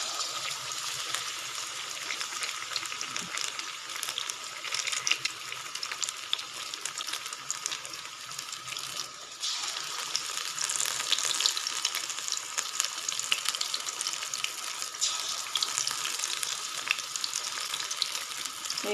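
Chicken pakora pieces fry in hot oil with a steady, crackling sizzle that runs unbroken and fairly close, swelling slightly midway, with no voices.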